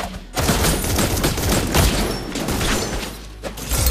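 Granger firing his crescendo bullets in a Mobile Legends match, a dense, loud volley of rapid gunshots and booms running almost continuously with brief gaps near the start and around the middle of the stretch.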